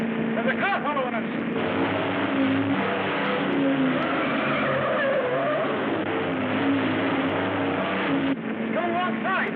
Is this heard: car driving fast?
yes